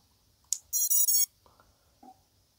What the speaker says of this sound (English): and then you wait for the startup beeps, as you heard